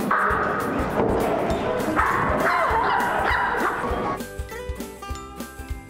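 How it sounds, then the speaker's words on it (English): Tiny dogs yip and bark at Pups and Cups, a small-dog cafe in Manila, over busy room chatter, with music taking over near the end. "You basically just get tiny dogs and they are bundles of joy."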